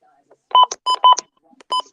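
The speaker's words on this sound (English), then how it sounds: "button beeps is when you press a button on your weather radio, it will play a beep" Several short electronic button beeps from a Midland WR120 weather radio in quick succession, a pair close together then another, clear and near with quiet gaps between.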